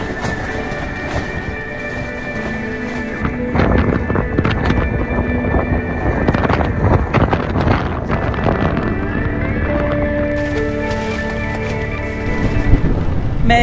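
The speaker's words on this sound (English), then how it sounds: "Very windy." Strong wind battering a campsite in high-wind weather in Devon near Burgh Island and Bigbury, a loud, continuous roaring rumble that surges in gusts and rattles the gear nearby.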